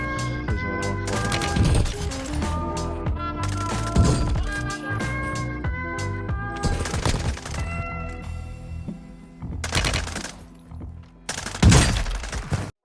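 FSS Hurricane SMG hip-fire in Warzone 2.0, rapid loud automatic bursts repeated several times over a musical backdrop, with sharp impacts and tonal game effects close in front.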